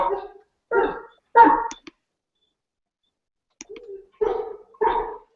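A dog gives a series of short barks or whines in a quiet room, in several bursts separated by brief pauses, with a faint clicking between them.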